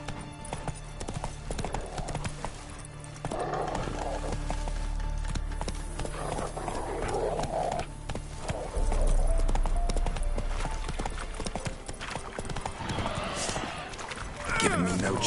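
A horse gallops in The Witcher 3 video game, with rapid rhythmic hoof clip-clops that speed up and carry on throughout, along with occasional game sounds and a voice talking over them.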